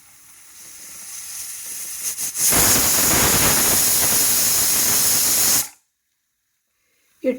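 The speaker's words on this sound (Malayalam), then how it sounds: "പത്ത് വിസിൽ വരെ വന്നിട്ടുണ്ട് നമുക്ക് സ്റ്റൗ ഓഫ് ചെയ്യാം" A pressure cooker cooking beef on a medium flame lets out one loud, sustained steam whistle lasting about three seconds, which then stops abruptly and leaves silence.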